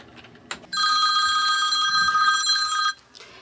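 The pediatric transport team's hospital telephone rings with a bright electronic trill lasting about two seconds, close and clear, with faint room noise around it.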